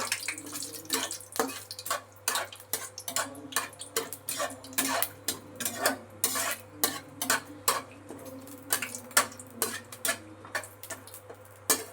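Whole spices, a bay leaf and a clove, stirred in a hot pan for soya keema rice, giving a steady run of close, crisp scraping taps and clicks with a faint hum beneath and no talk.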